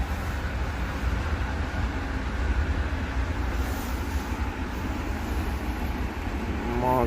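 A MARC double-decker commuter train at Dorsey station rumbles steadily from the upper deck, with continuous low mechanical noise and a faint rising tone near the end.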